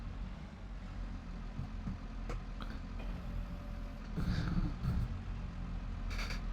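A tractor fitted with a front loader runs in Farming Simulator 22, a steady low engine drone throughout with a brief louder rattle midway and small clicks.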